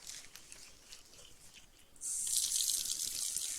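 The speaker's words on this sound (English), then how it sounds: "First, we're going to fill our graduated cylinder with a known amount of water." Water runs from a tap into a graduated cylinder during a density lab, starting as a soft stream and turning into a louder, steady hissing pour about halfway through.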